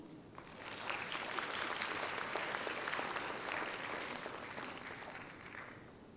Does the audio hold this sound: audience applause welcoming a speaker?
yes